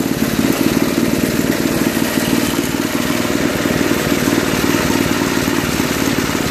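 Tecumseh 5HP engine on a 21-inch Toro two-stage snow blower runs steadily at low throttle, a loud, even mid-pitched chug with a fine clattering pulse throughout and no voices.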